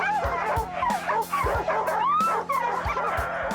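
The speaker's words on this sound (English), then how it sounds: "The first task is to harness the 12 dogs up to their sled." A team of twelve sled huskies being harnessed, yipping, whimpering and barking in overlapping bursts, close and continuous over a low rumble.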